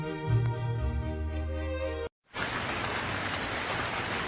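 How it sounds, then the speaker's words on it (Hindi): Heavy rain pours outside at night in a steady, dense wash of noise. A brief silent gap breaks it partway through, and then the downpour carries on evenly with no voices. "वो उठकर देखता है तो बाहर बहुत तेज बारिश हो रही होती है।"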